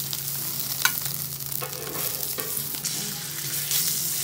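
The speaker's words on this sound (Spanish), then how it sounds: "Seguimos con las salchichas cóctel, cuidado que brincan." Cocktail sausages fry in a hot pan while paella is being made, a steady loud sizzle with crackling pops and occasional stirring scrapes, and no voices.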